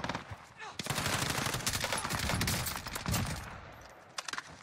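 Automatic weapon fire rattles in rapid bursts during Call of Duty Warzone Pacific on Rebirth Island, loud sustained volleys with brief gaps and a few isolated shots trailing off at the end.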